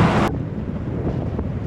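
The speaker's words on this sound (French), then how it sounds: "Il y a du bon vent là les gars" Wind buffeting the microphone while riding a motorcycle through town toward a river, as a loud rush of noise that cuts to a steady, lower roar with no talking.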